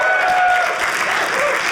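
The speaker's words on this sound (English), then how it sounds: "Round of applause." Audience applause at a stand-up comedy show, a brief loud burst of dense clapping with cheering mixed in from a packed crowd.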